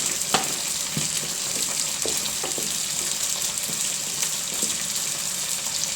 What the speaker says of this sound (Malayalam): മാവ് നന്നായിട്ടൊന്ന് ഇളക്കുക.